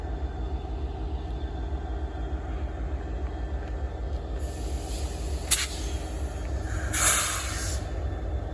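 A freight train pulled by a GP locomotive rolls past a crossing at Bayview Road in Blasdell, New York, a steady low rumble of wheels with a couple of brief bright hisses and squeals near the end.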